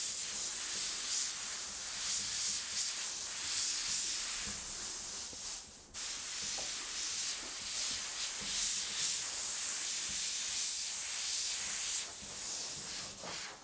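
An airbrush with a 0.4 mm nozzle, running at under 2 bar while spraying body paint onto a person, gives a steady close hiss that pauses only briefly midway before resuming at an even level.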